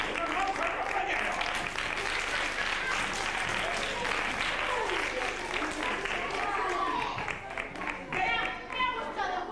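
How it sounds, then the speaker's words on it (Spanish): A theatre audience claps in a steady, dense round of applause with chatter and voices mixed in, thinning slightly toward the close. "¡Un aplauso al compañero!"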